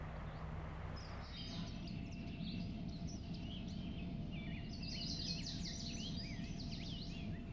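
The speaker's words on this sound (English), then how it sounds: "Gila woodpecker off on the cactus behind us" A Gila woodpecker calls from a cactus near Tucson, its series of high, fairly faint chirps carrying over a steady low rumble and a constant insect-like buzz.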